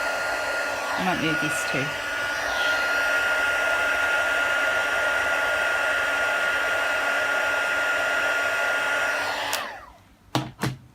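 A handheld heat tool blows steadily over embossing powder on a craft edge, a loud constant whirring hiss that cuts off near the end, followed by brief handling knocks and a short spoken remark.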